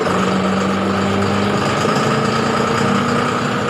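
A tractor engine is revved up to 540 RPM while being matched to a reaper, holding a loud, steady drone with a low hum and even mechanical noise throughout.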